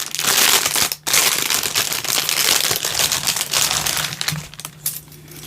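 A package of items ordered from AliExpress being torn open, with loud, close crinkling and rustling of plastic wrapping that continues almost throughout, with one brief pause near the start.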